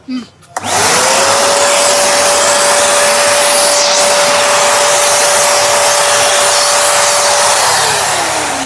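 A low-budget drum vacuum cleaner switches on and quickly rises to a loud, steady, close-up whooshing roar with a constant motor whine, running without a break.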